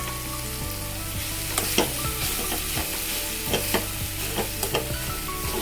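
Sweet potato pieces stirred in a hot pan for a fasting-day kheer: steady sizzling with a low hum underneath and regular spatula scrapes and taps, close and alone.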